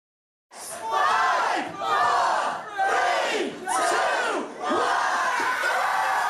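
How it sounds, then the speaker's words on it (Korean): Revellers cheer and roar in a packed UK nightclub as lockdown rules lift on Freedom Day, a loud, continuous crowd din rising and falling in several surging waves of shouting and whooping. "술잔을 든 사람들이 환호하며 무대로 뛰어듭니다"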